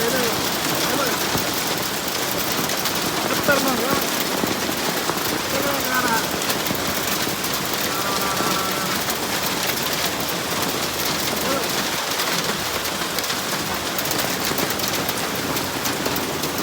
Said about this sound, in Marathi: गारांचा पाऊस चालू आहे.